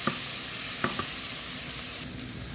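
Butter sizzling in a pan with tomato paste, a steady close frying hiss with a few soft stirring clicks early on, continuing alone without talk.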